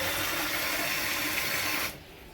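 Tap water runs steadily from a faucet in a home in the Highlands of Scotland, a close, even hiss that cuts off abruptly near the end.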